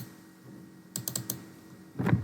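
Computer keyboard typing while a header is filled in a Microsoft Word document: a quick burst of several key taps, then a brief pause and one more heavier cluster of keystrokes, close and fairly quiet.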